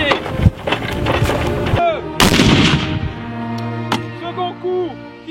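An artillery piece fires during a film shoot: sharp loud blasts with echoing tails, one early and a heavier boom near the middle, with shouted commands around them.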